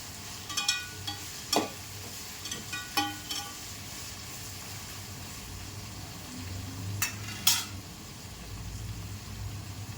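Onions or aromatics sautéing in a pan until golden for pepper chicken gravy, a low steady sizzle broken by several sharp spatula clicks and scrapes against the pan, no voices.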